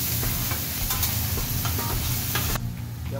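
Ingredients for Mexican alambres, including squash blossoms and epazote sprigs, fry and get stirred in a pan, giving a steady close sizzle with scraping stir sounds throughout and no talking.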